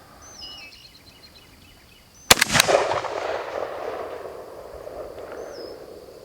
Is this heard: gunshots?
yes